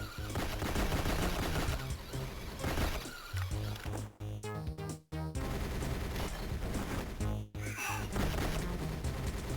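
Several enemies fire guns at the player in GoldenEye: Rogue Agent on the Nintendo DS, a steady clatter of rapid shots over loud game music, broken by a couple of brief dropouts.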